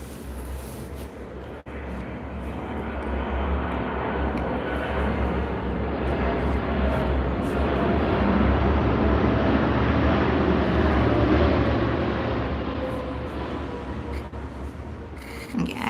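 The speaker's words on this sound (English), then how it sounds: "I was waiting for the aeroplane to go before saying anything" An aeroplane passing overhead during a quiet indoor session, a broad steady roar that swells gradually toward the middle and slowly fades away, with no talking.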